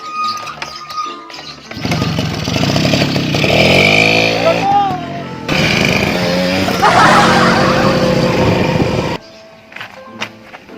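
Motorcycle ridden along a rural road in Boyolali, engine droning loud and close for several seconds with rising revs and a brief break, fading at the end; people speak faintly around it.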